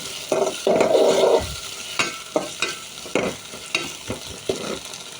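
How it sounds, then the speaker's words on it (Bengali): Onion, tomato and green chilies fry in a pan for a cauliflower curry, with a soft, steady sizzle under repeated scraping strokes of a spoon as the mix is stirred close up. "তো আমি এখন দিয়ে দিব পেঁয়াজ, তারপর দিয়ে দিব টমেটো, কয়েকটা কাঁচামরিচ দিয়ে দিব। তো আমি এখন নেড়ে চেড়ে নিব।"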